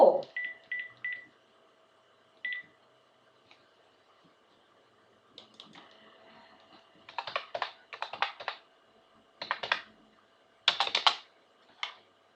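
A phone number is punched in for a cold call, short keypad tones in quick bursts at first, then after a pause clusters of rapid key presses and beeps in several separate groups, fairly faint and close.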